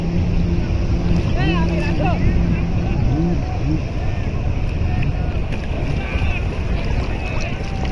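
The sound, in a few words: strong sea waves rushing in at Cox's Bazar beach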